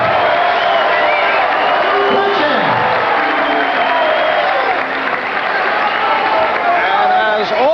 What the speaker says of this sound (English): Frank's mom Lucille leading the cheering from ringside